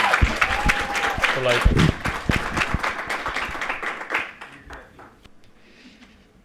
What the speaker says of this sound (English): I'd like us to clap for Dr. Ruiz